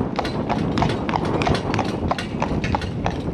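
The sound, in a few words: cob horse hooves clip-clopping while pulling carriage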